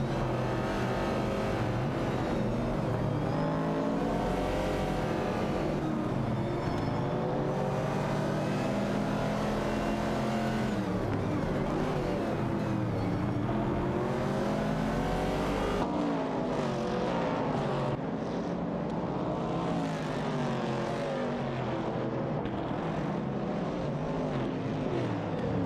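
Race cars roaring through a racing video game, including an AMC Javelin 69 and a Ford Mustang Boss, with dense layered engine drones and revving that rise and fall continuously as cars jockey for position, loud and unbroken.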